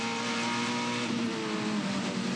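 Touring Car Masters race car engine roaring at high revs at Adelaide, 2016, with a steady, buzzing drone that rises slightly in pitch as it accelerates, loud and close.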